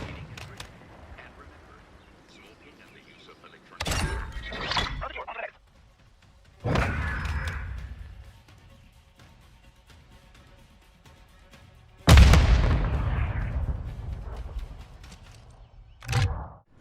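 Grenade launcher shots and explosions in Modern Warfare II, with four loud separate blasts spread through a quiet stretch of game ambience, the last two sharp and heavy.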